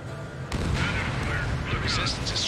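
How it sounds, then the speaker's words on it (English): A missile launch and gunfire in the combat flight game Ace Combat 7: a sudden loud blast kicks in after a brief lull, followed by sustained roaring, crackling fire and rumble for a couple of seconds. "Missile away."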